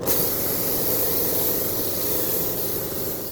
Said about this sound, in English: I'm going to take some brake parts cleaner and just clean all of this off before I disassemble